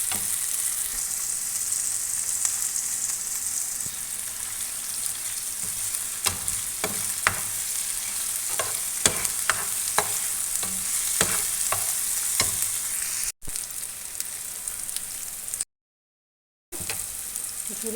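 Spice paste with garlic paste fries in a pan with a continuous loud sizzle, and utensil scrapes from stirring click through it; it cuts out briefly near the end before resuming.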